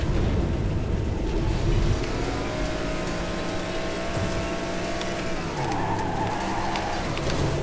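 A car drifting in the racing video game Ridge Racer Unbounded: a steady, loud engine drone whose pitch climbs and dips through the slide, with faint tire noise throughout and no speech.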